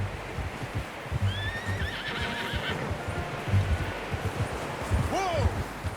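A horse in Red Dead Redemption 2 whinnies twice, once early and once near the end, over the steady clip-clop of hooves at a ride, with voices talking over it.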